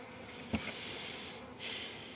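Steady low buzzing from Buckfast honey bees fills the clip, fairly quiet and continuous, with a brief louder knock or rustle near the start.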